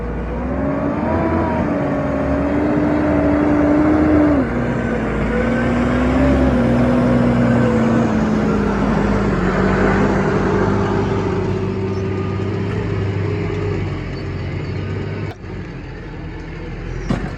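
A New Holland T7 tractor pulls a six-furrow Kverneland plough through a November field, its diesel engine droning loud and close with wavering pitch as the load shifts, then easing off and knocking near the end.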